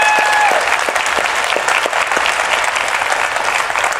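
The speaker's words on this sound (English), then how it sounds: "Let's give her a big round of applause for what she's done." Loud, steady applause from a large audience at a DEFCON hacker conference talk, dense clapping that fills the whole stretch without a break.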